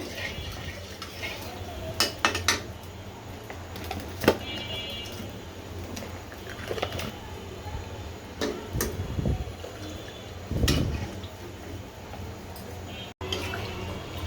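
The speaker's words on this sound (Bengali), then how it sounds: "এইভাবে নেড়ে চেড়ে দিতে হবে, তা না হলে দুধটা ছড়া দিয়ে যাবে" A spoon stirs coconut milk curry in a cooking pot, giving scattered metallic clinks and scrapes against the pot with soft liquid sloshing between them, close and fairly quiet.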